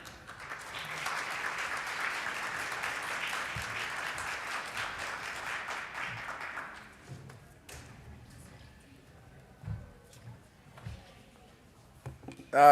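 An audience at a University of Minnesota COSP graduation celebration applauds to welcome a regent, steady clapping for about seven seconds that then fades into quiet room noise with scattered thumps.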